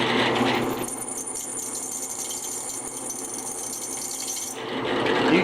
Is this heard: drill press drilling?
yes